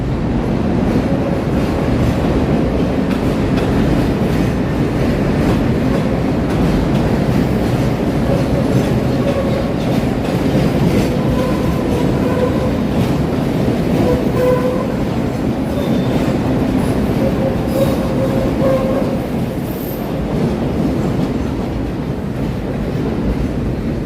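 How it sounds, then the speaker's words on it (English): A Chicago elevated L train rumbles past in the Loop with continuous clattering wheels and metallic squeal, loud and sustained throughout, as if rounding a curve nearby. "So there's the L train rounding the bend there."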